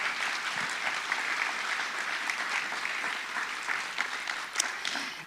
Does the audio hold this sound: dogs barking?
no